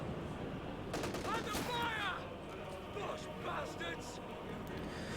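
Gunfire in the World War II strategy game Company of Heroes 2, a cluster of bursts and rattling shots partly under a commentator's voice, with a brief tonal whine in the middle.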